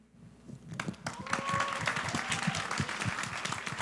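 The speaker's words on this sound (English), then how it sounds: "One more round of applause for the artists and directors and singers" A small audience claps at a music video showcase Q&A, the applause swelling from scattered claps into a steady round that continues to the end.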